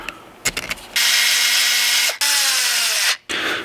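A power drill drives bolts back into a Louisiana Grill in two long, loud whirring runs, with a brief pause between them and some clicks and handling noises around them.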